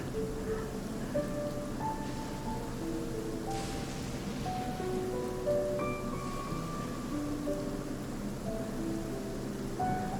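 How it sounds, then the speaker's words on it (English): Steady rain hisses throughout in the video game Genshin Impact, with soft scattered musical tones drifting over it. "I need to appreciate how good it is raining while it's raining."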